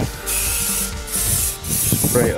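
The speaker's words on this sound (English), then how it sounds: "So it's a brake cleaner." Brake cleaner is sprayed from an aerosol can onto Ford Mondeo front brake discs and pads in close, loud hissing bursts, about three of them across the clip.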